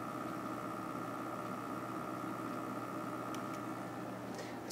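A faint, steady mechanical hum from a brand-new computer fan in a PC with a rough, grinding drone that holds evenly throughout, close by and with no talking.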